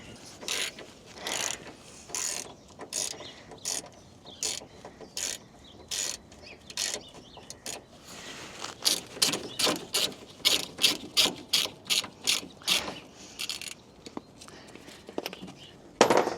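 A ratchet loosens a bolt under an Audi TTRS 8S. It gives close, sharp bursts of rapid clicking, spaced apart at first, then faster and louder strokes toward the end.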